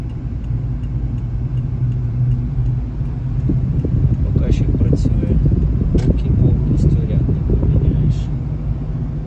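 A car accelerating along a main road in Brovary on a driving-test route, building to about 40 km/h: a steady low engine and road rumble from inside the cabin, with a voice talking over it.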